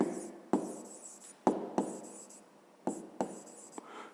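A pen writes an answer on paper in a quiet room, heard up close as soft scratchy strokes, with several sharp taps as the pen touches down between words.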